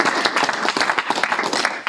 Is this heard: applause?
yes